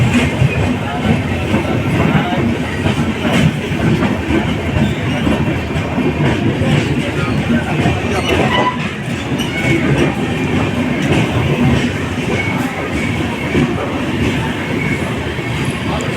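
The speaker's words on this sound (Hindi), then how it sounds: "तो फाइनली प्लेटफॉर्म नंबर 1 पर आकर के लग चुकी है हमारी ट्रेन आरा जंक्शन में, उधना जयनगर स्पेशल।" The Udhna–Jaynagar special train pulls in at platform 1 of Ara Junction, its carriages giving a loud continuous rumble and clatter up close, while voices talk over the noise.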